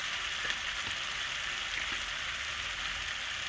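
Spice paste seasoned with salt and turmeric fries in a hot pan, giving a steady, dense sizzle that hisses without pause throughout, close and even in level.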